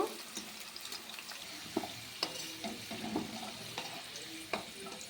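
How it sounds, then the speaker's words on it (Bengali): Potatoes fry in oil with a quiet, soft sizzle, punctuated by scattered knocks and scrapes of stirring and a faint trickle of water in the background. "এবার আমরা আলুগুলোকে একটু লাল লাল করে ভালো করে ভেজে নেব"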